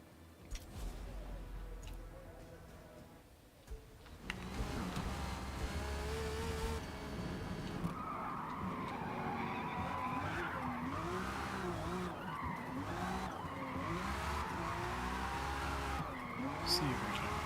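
A car drifts in the Forza Motorsport racing game, its tires screeching in long sustained squeals over a droning engine, loud and continuous from start to end.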